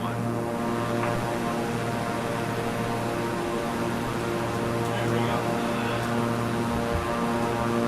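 A Beechcraft propeller plane flies in a flight simulator game, its engine a steady, even drone with a constant hum running throughout at moderate level, alone without talk.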